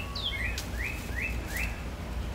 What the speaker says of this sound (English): The birds just won't stop.